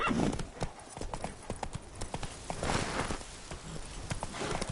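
Horse hooves clip-clop in a rapid, steady rhythm as a mount gallops in The Witcher 3 on Death March difficulty, loud and close, with a faint whinny near the start and no talking.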